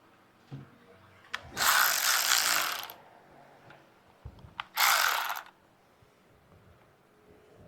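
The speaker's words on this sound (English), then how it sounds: "I've got a bolt on the side I'm gonna put in first" A ratchet on a car bolt clicks in two bursts of rapid, close ratcheting a few seconds apart, with quiet handling noises between them.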